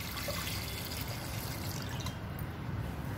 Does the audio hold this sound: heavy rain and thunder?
no